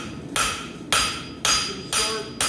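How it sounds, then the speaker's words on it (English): A small rounding hammer strikes hot metal at a blacksmith's forge while a weeping heart is shaped. Five loud, evenly spaced ringing blows land about half a second apart, each decaying quickly. "I want my small rounding hammer handy"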